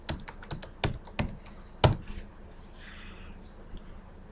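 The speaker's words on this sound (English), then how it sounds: "What I like to do is type in startup." Keys clatter on a computer keyboard during AutoCAD work, a quick run of sharp clicks with a few louder strikes, then a short pause and one last tap, close and clear with no voices.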